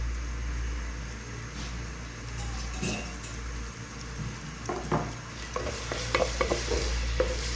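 Onions shallow frying in a pan for pulao, a continuous sizzle over a low kitchen hum, with stirring and scraping that grows busier and more clattery toward the end.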